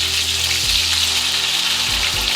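Steak frying in a hot pan gives a steady, close sizzle that runs throughout, with low bumps as the meat is moved or turned.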